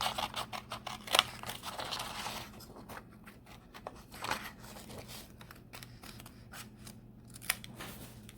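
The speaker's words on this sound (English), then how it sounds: "So let's cut out the second piece here." Scissors cut out paper pieces up close, a quick series of crisp snips and slicing strokes, pausing midway before resuming with a few sharper cuts.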